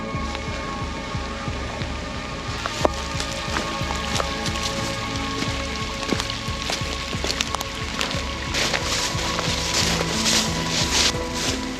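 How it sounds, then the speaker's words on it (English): Rain falling along a creek walk, a dense steady patter of drops on surfaces and foliage that builds slightly toward the end, nearby and continuous with no talking. "getting caught in some rain."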